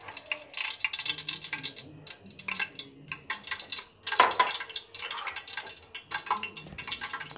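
Oil poured into a pan as the first step of a Shahi Haleem korma, heard as a run of irregular drips and liquid splashes with small clinks, close and fairly quiet, with no talking.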